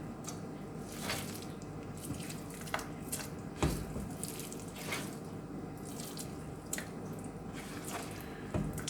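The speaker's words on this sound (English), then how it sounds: "So now I throw the meat here in the water." Chicken meat goes into a pot of water while Russian borscht is being cooked, giving soft wet splashes and drips with a few sharper knocks, close and quiet, and nobody speaks.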